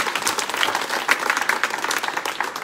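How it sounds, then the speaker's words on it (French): A church congregation claps in a brief round of applause, a dense patter of many hands at moderate distance. "Alors, on peut peut-être l'applaudir pour l'encourager."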